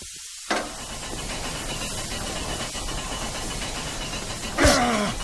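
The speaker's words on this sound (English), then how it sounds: "I heard a hissing, but I turned it off." Steam hisses from pipes in the video game Astray, a steady broad hiss running throughout, with a short burst near the start and a louder sharp gush near the end.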